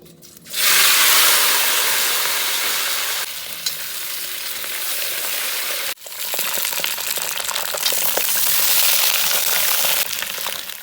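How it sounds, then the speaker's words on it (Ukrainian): Baby potatoes dropped into a kazan of hot oil with fried garlic, set off a loud steady sizzle that starts abruptly and keeps going, with a brief break as they are stirred before the crackling frying carries on. "Чесничок вже піджарився, кидаємо туди барабольку."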